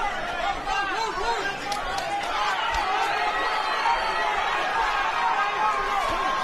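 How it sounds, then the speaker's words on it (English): A boxing arena crowd at the Gomez vs Ingram fight chatters and shouts encouragement to Ingram in a steady, dense roar of many voices, with no single voice standing out. "The crowd really trying to urge ANTRAVEOUS on here."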